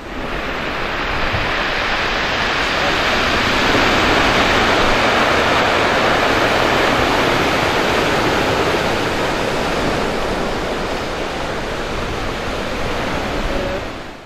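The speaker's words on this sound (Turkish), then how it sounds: "Denizde şiddetli bir dalga var." Violent sea waves pound Arsin fishing harbour in a continuous, loud roar of surf and spray, steady throughout with no voices.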